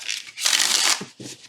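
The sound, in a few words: shuffling a tarot deck of thin cardstock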